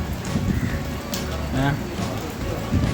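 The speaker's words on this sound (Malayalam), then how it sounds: "അപ്പോൾ മഴ കൂടിക്കൊണ്ടിരിക്കുന്നുണ്ട്" Dense, steady rain hisses throughout near the Valapattanam river in Kannur, Kerala, with a voice talking briefly over the downpour.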